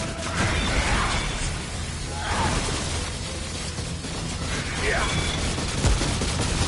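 Turrets firing on a boss in Remnant: From the Ashes, a continuous clatter of rapid gunfire with scattered bursts and whooshing shots, loud and close, with players talking over it.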